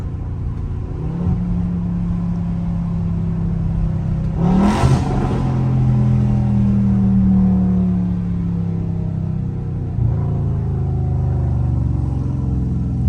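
A Dodge Charger Scat Pack V8 rumbles steadily, then a sharp rev spikes near the middle before settling into a droning, climbing engine note, loud and close throughout.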